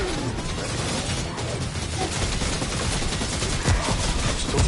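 Turret gunfire in Remnant, a dense, continuous clatter of rapid shots mixed with mechanical rattling and impacts, steady and loud throughout.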